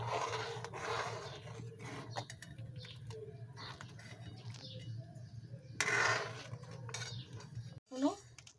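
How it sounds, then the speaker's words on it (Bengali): Milk and rice for phirni being stirred in a pot, with soft scraping and light clinks of a spoon against the metal in a steady, unhurried rhythm; close and quiet, with a louder clatter near the end. "বেশ খানিক্ষণ নাড়তে হবে নিচটা না নাড়লে তলা বসে যাবে"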